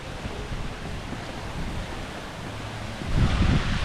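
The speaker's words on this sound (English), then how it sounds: "Kind of windy and kind of cold today" Wind blows steadily outdoors on a cold day in Championsgate, Florida, buffeting the microphone in a continuous rumble that swells louder near the end; nobody speaks.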